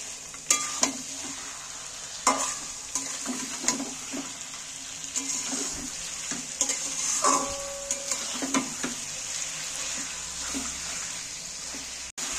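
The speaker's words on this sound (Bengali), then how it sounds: "এইভাবে মাংসকে নেড়ে নেড়ে কষিয়ে কষিয়ে রান্না করতে হবে।" Mutton pieces are stirred and browned in a pot for dum ka mutton, with a steady sizzle running throughout and repeated clacks and scrapes of the spoon against the pot, close and moderately loud.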